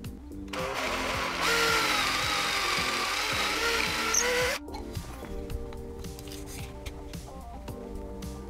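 A power drill whirs steadily for several seconds at close range while correcting the angle of a slanted through-hole, then stops, followed by quieter handling sounds.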